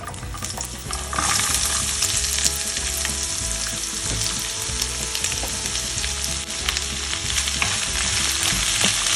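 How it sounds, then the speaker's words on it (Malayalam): Chopped green beans hit a hot pan with dried red chillies and curry leaves, and the sizzle swells to a loud, dense, crackling roar that holds steady for several seconds, with no talking. "നമുക്കിതിലേക്ക് അരിഞ്ഞു വെച്ചിരിക്കുന്ന ബീൻസ് ഇട്ട് കൊടുക്കാം."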